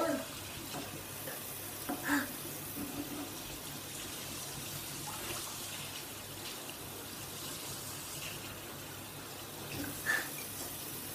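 Tap water runs steadily for rinsing a mouth, a faint continuous splashing hiss with a couple of small bumps, no talk over it.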